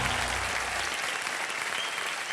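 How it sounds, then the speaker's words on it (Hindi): A studio audience on a game show applauds a contestant who has solved a puzzle. The clapping is steady and dense throughout, with a low musical tone fading out under it at the start. "अब तालियां।"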